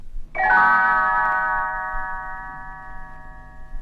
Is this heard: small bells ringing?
yes